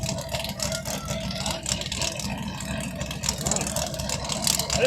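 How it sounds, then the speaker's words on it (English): A tractor engine roars steadily at a tractor pull and mud bog at a county fairground, a loud continuous low drone with rough, fluttering texture and constant crowd and ambient noise around it. "Way over there he goes with the tractor."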